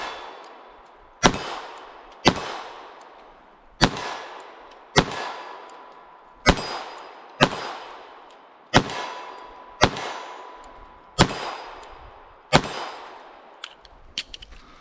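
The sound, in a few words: Walther P22 .22 pistol plinking, shots and clanging targets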